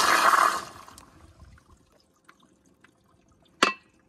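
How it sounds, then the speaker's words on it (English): A Toto CT705 toilet on a piston flushometer gives a short, loud rush of water that fades quickly into quiet trickles and drips, then a sharp click. "that's the flush"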